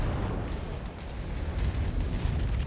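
Dull, rumbling artillery explosions from a BattleTech battle, a steady dense roll of distant booms layered into a continuous low roar with no talking.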